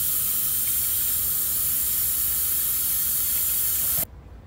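Okra is washed under a running kitchen tap, a steady hissing stream of water that pours continuously before cutting off abruptly near the end.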